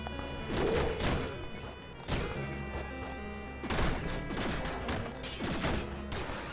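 Three-round burst gun in the game Downwell, repeated clusters of punchy, thudding shots over a continuous music and effects bed, with bursts recurring every couple of seconds.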